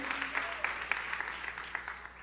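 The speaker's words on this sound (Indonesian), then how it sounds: "Sorak-sorak tepuk tangannya balai meriah." Congregation at a church service clapping and cheering, faint, steady scattered applause with a few sharper claps, heard from some distance.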